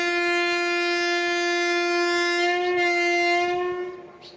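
A long, loud, steady horn blast sounds from an Intercity Express passenger train on the Madurai to Coimbatore line via Palani and Pollachi as it pulls away from a station, holding for several seconds before fading.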